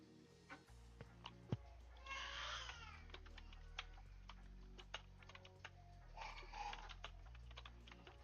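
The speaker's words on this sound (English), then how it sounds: "Just typing." Rapid typing on a computer keyboard, a steady stream of quiet clicks with a few louder key strikes, heard up close with no voices.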